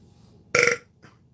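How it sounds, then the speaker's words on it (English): A single short, throaty burp pops up loud and close against a quiet room, lasting about a quarter second, followed by a faint trailing breath. "I apologize for burping."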